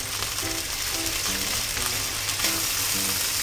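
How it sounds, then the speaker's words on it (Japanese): Anchovies sizzle in oil in a frying pan as they are shallow-fried and broken apart with a silicone spatula, a continuous close crackle under a steady tonal background. "ちょっとこのアンチョビを揚げ焼きっぽくして、かつ崩してあげといてください。"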